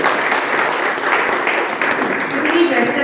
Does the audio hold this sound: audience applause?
yes